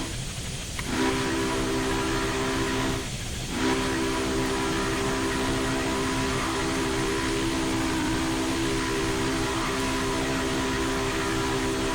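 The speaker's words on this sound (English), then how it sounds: "I have to whistle." Steam whistle of Union Pacific FEF-3 844 in a train simulator, loud and sustained: a short blast, a brief pause, then one long continuous chord over the rumble of the locomotive.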